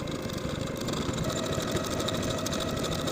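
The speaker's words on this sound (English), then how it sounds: "Now I'll sew my buttonholes in place." Sewing machine stitching buttonholes on a knit cardigan front, a continuous close, fast motor hum with rapid needle chatter that holds steady throughout.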